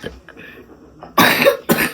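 A woman with allergies coughs twice in quick succession, close and loud, after some quiet, indistinct shuffling and breathing.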